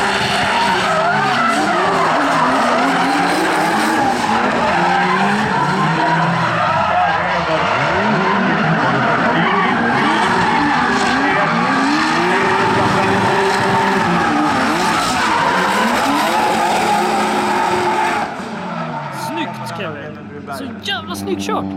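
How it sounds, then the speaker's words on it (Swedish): A drift car skids through a chase run at a drift championship competition, with loud sustained tire squeal and a revving engine that rises and falls. Commentary runs over it before the noise fades near the end. "Nu ska Kevin köra chase"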